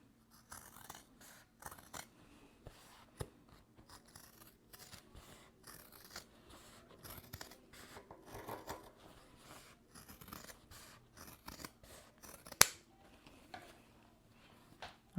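Scissors snipping excess fabric along a chalk line, a quiet series of irregular crisp cuts and rasping fabric rubs, close and alone, with one sharp louder snip near the end.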